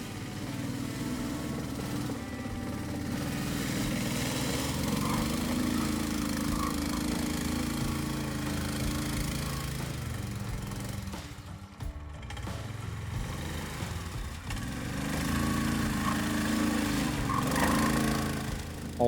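A BaltMotors 2x2 all-wheel-drive ATV engine labors steadily and loudly while crossing a forest swamp, dipping briefly midway before rising again.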